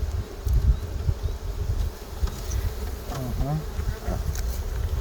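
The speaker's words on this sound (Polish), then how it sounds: "Kolejna ramka z pszczołami," Honey bees buzz around a hive frame during a spring inspection in eastern Poland, a close, steady droning hum with individual bees passing near.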